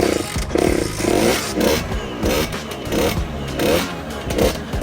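A moped engine fitted with a 77cc Stage 6 kit, started cold, sputters and revs in repeated uneven bursts, loud and close, with a rough rasping note that rises and falls without settling.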